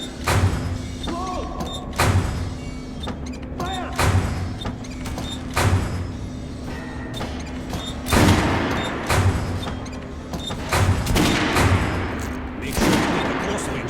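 Repeated gunfire on a shooting range in the video game Metro Last Light, loud shots at roughly one-second intervals with metallic reload clatter between them and a steady low hum beneath.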